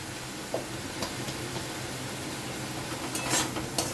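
Mutton curry spices frying in a pan with coriander powder, stirred with a spoon, giving a low steady sizzle under a few sharp scrapes and clinks of metal against the pan.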